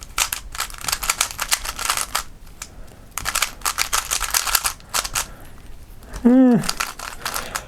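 Speedcube puzzle turned rapidly, dense clacky plastic clicking in bursts with short pauses, close and loud, interrupted briefly by a short voiced sound near the end.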